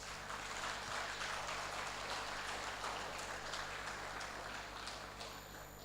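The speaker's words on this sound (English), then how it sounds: "A round of applause for him." Applause from a seated audience at an architects' general assembly conference, a steady broadband patter of many hands clapping, sustained and fairly even throughout, heard from within the hall.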